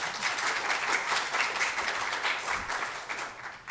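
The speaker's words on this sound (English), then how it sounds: "Let's just give them a round of applause." An audience gives a steady round of applause for a panel of speakers at an event, a dense wash of hand claps holding fairly even before thinning slightly at the end.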